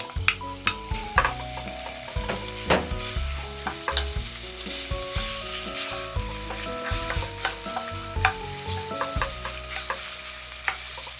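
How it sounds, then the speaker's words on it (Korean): Beef stir-frying in cooking oil in a heated frying pan, with steady sizzling plus repeated scraping and clacking of a utensil against the pan, close and busy, no talking. "달궈진 후라이팬에 쇠고기 먼저 볶겠습니다"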